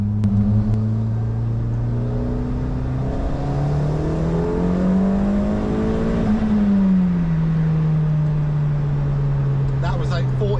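A 1.8T swapped MR car pulls hard in third gear, its close, loud engine note climbing steadily in pitch, easing briefly, then holding on, with the cabin rumble continuous throughout.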